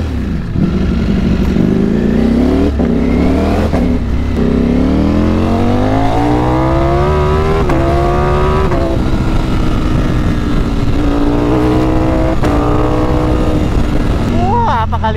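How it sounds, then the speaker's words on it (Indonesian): A Ducati Streetfighter V4 motorcycle engine revs up and down repeatedly, loud and close, its pitch climbing and falling in long sweeps with brief sharp pops between. "Kaliksi ng motor na to."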